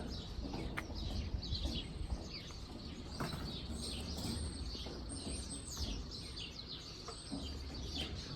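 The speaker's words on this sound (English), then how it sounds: "I love the sound of bird song." Birdsong with several chirps and tweets over a steady outdoor background, a brief call standing out now and then, moderately near and continuous without talk.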